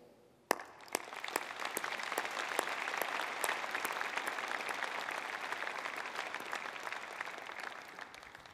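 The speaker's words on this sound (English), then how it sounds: "please thank Loretta Rogers for the contributions to our university with an applause" Steady applause from a university convocation audience in honour of Loretta Rogers, opening with a sharp clap and then filling in as a dense, even wash of many hands that continues throughout.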